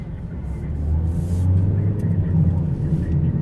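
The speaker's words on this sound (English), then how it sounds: "Can we get this thing up to a couple miles an hour in reverse?" A 2020 Toyota Corolla reverses slowly, a loud steady low engine and road rumble filling the clip close by, with no other clear sounds.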